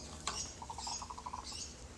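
A sparrow in a backyard garden gives a quick run of soft, evenly spaced chirps, faint and somewhat distant over a steady outdoor hiss, with a couple of sharper chips around it.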